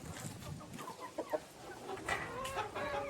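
Laying hens and a rooster cluck near a coop, with overlapping bursts of calls and a few louder squawks over a continuous farmyard background.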